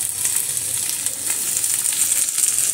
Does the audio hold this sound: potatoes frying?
yes